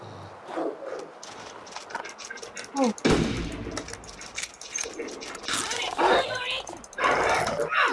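A single gunshot fired in the survival game The Long Dark, a sharp loud crack midway that rings out over ambient noise, with a person talking before and after.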